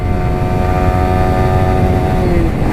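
A Yamaha R15 sport motorcycle engine is held near its 12,000 RPM redline while shifting up through the gears, giving a loud, steady, buzzing drone with a whining tone that climbs slightly before easing off near the end.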